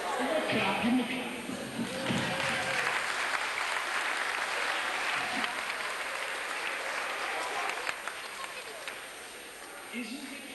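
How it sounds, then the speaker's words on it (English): Clapping from a school assembly audience fills a crowded hall in 1986, a dense sustained wash of many hands that stays loud throughout and eases slightly toward the end, with some voices mixed in. "Give me a clap."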